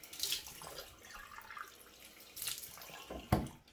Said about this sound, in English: I'm just going to splash some cold water on now.